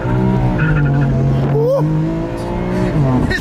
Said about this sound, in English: These some noisy tires.